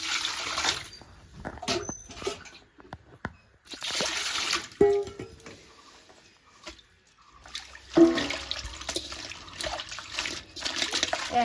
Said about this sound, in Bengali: এবার এই পাতাগুলো আমি ভালো করে ধুয়ে নেব।